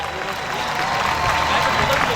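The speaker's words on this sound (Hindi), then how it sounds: "तो जोरदार तालियां बजा के दीजिए।" A large crowd at a political rally at Nishtar Park, Karachi, gives loud, sustained applause, a dense roar of clapping that swells slightly toward the end, with voices mixed in.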